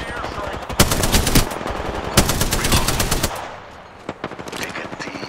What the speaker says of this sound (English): Enemies are shooting.